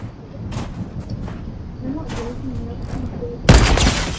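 Gunfire in the Fortnite video game: a few scattered game shots under low background noise, then a loud, close burst of fire near the end that carries on briefly.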